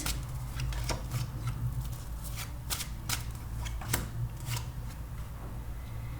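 Tarot cards shuffled by hand in quick riffling bursts, a steady run of crisp card flutters close by with no talk.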